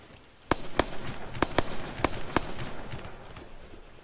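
Sniper fire in Arma Altis Life, heard as six or seven sharp cracking shots spaced unevenly over a few seconds, moderately loud over a faint background with no talk.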